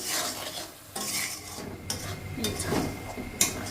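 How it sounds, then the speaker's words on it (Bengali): Masala being stir-fried with a little water in a pan, a spoon scraping and clinking against the metal under a soft steady sizzle, close and fairly quiet. "একটু জল দিয়ে দেব গ্যাসের ফ্লেমটা বাইরে দেবো মশলাটা কষার জন্য"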